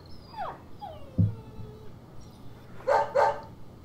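Dog barks and yips in the video game Deadly Premonition, a few short sharp calls spread over several seconds, moderately loud with no talking.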